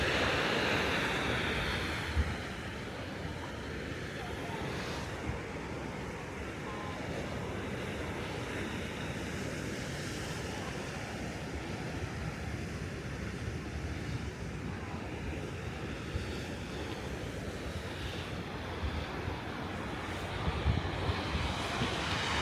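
Ocean waves crash against the cliffs at Point Loma, a continuous heavy surf roar with steady wind across the microphone and a few dull booms from a sea cave.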